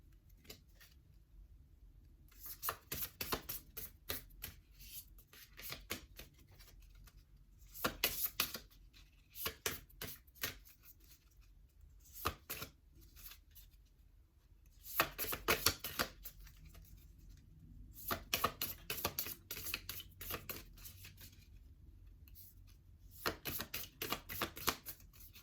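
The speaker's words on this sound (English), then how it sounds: "you take the cards and you flick through them one at a time in both directions from all four sides" Tarot cards flicked through one at a time, giving bursts of rapid, close papery riffling that come in repeated clusters with short quiet gaps between them.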